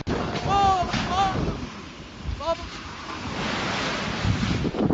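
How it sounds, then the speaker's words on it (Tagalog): Roaring surf and strong gusting wind from Super Typhoon Pepito buffet the microphone at a resort in Dipaculao, Aurora, with a voice briefly heard in the background. "Umabot sa resort na ito sa Dipakulaw, Aurora ang mga alon habang nananalasang Super Typhoon Pepito."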